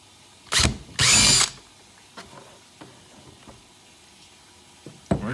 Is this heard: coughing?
no